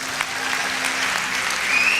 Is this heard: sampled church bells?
no